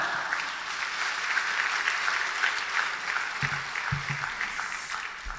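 A church congregation claps together in steady, sustained applause, a dense field of hand claps with a few low thumps near the end.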